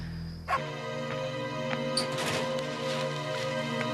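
A dog barks and yips in a TV episode soundtrack, a few sharp barks over a dense, sustained background of music and noise, moderately loud with no clear talk.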